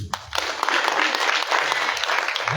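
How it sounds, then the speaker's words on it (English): An audience applauds at a university orientation session for incoming second-year students, a dense burst of clapping that starts after a brief pause and holds steady at a loud level to the end. "So round of applause for me."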